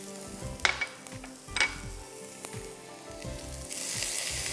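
Mustard seeds, onion, ginger and green chillies sizzle steadily in hot oil, a close broadband hiss with a few sharp crackles and pops, swelling louder toward the end.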